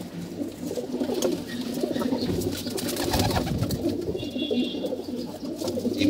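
Weak, sickly pigeons coo in a loft: soft, repeated throaty calls at close range over a low background rustle.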